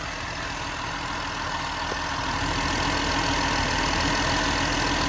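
A Mercedes 280SE with the M130 engine idles steadily on a freshly replaced electric fuel pump, a loud, continuous low rumble that holds even throughout, with no talking over it.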